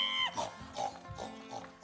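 A pig oinks and grunts in short, soft bursts during a read-aloud farmyard story, set against a quiet musical bed with no speech over it.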